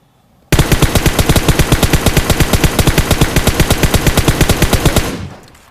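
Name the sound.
gunfire in PUBG Mobile video game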